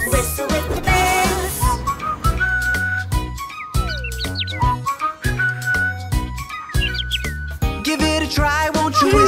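Bright, warbling whistles imitate birdsong, trilling and sliding in pitch over a bouncy musical backing.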